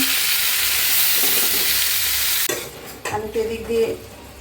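Small young hilsa fish fry in a pan, a steady loud broadband sizzle for the first half, then a sharp break into louder, uneven bursts of spitting oil and clattering movement.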